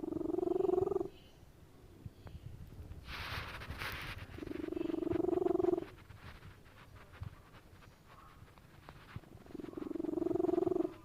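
A close, loud, snoring purr from a cat comes in long rhythmic breaths with quiet gaps between them, and a brief hissy rustle falls between the first two purrs.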